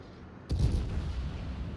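A sudden heavy boom of naval guns firing from the Kronshtadt battleship in a naval warfare video game, one loud blast followed by a rumbling roar that lingers.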